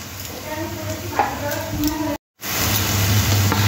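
Chopped onion dropped into hot oil, giving a steady close sizzle with light stirring clatter under a voice, briefly cut to silence, then the frying hiss returns stronger.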